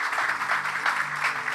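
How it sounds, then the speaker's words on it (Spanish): Audience applause at a church family gathering, a brief, continuous patter of many hands clapping at moderate volume with a faint hum beneath and no talking. "Queremos darle un aplauso a Pati por su valentía"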